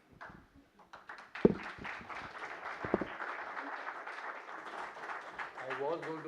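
An audience at a conference session claps steadily after a talk, with dense applause that swells and holds and a voice or two over the crowd.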